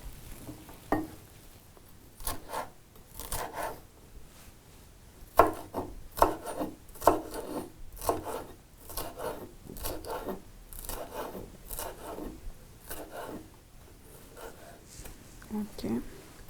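Knife chopping onion into small pieces on a wooden board, a steady series of crisp cuts and taps close by, with talk running over parts of it.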